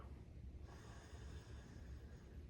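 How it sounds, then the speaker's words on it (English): Someone takes one quiet, close nasal sniff of a glass of Baron The Handsome Prince triple IPA (10% abv) in an otherwise hushed room, with faint breathing around it. "Let's have a sniff."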